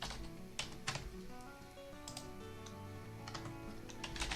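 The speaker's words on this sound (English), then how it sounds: "we can start typing computer" Someone types on a computer keyboard, with irregular clusters of light key clicks and short pauses between them over a quiet background hum.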